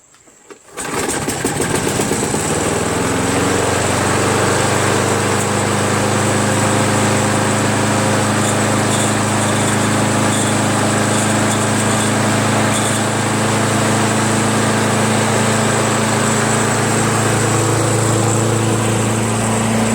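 A Craftsman lawn mower with a 6HP Briggs & Stratton Quantum engine and recoil starter starts after a pull and settles into a loud, steady, close-up running drone with no break.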